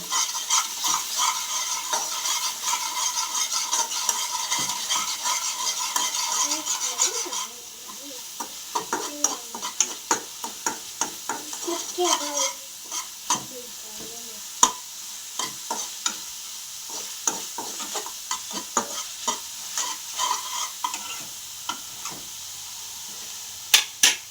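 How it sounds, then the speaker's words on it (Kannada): Spiced tomato mint rice stirred in a pan, with a steady sizzle during the first seven seconds, then sparse scraping and clinking of the spoon against the pan, up close, without any talking. "ಸೇರಿಸ್ಕೊಂಡು ಚೆನ್ನಾಗಿ ಕೈ ಆಡ್ಕೋಬೇಕು"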